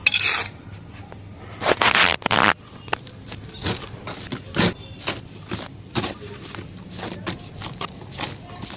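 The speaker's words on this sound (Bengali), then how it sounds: "চলো এবার মাটি ভরে দিই।" Soil is scooped and packed into a pot for planting a sapodilla sapling in a rooftop garden, giving irregular gritty scrapes and rustling bursts, loudest early on, then softer intermittent shuffles.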